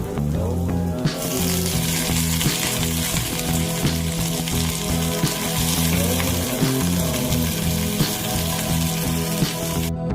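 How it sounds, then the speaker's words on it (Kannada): Mustard seeds, coriander, red chillies, coconut, onion and garlic frying in oil for a moringa leaf chutney, with a loud continuous close sizzle and scattered popping crackles throughout. "ನಾನಿಲ್ಲಿ ಸಾಸಿವೆ, ಧನಿಯಾ, ರೆಡ್ ಚಿಲ್ಲಿ, ಕೊಕೊನಟ್, ಆನಿಯನ್, ಬೆಳ್ಳುಳ್ಳಿ ಎಲ್ಲ ಹಾಕಿ ಫ್ರೈ ಮಾಡ್ತಾ ಇದ್ದೀನಿ"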